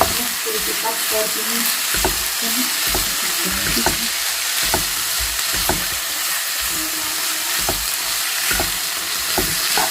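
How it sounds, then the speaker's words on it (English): Spaghetti and vegetables stir-fried in a pan, a steady loud sizzle broken by regular scraping strokes of a utensil, with no speech. "And now I'm going to mix it with the vegetables."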